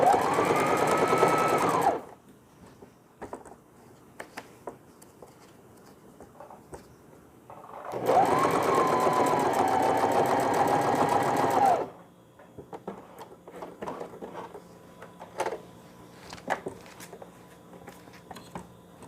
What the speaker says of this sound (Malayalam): ഇനി വെൽക്രോ സ്റ്റിച്ച് ചെയ്തു. രണ്ട് സൈഡിലും വെൽക്രോ അറ്റാച്ച് ചെയ്യണം.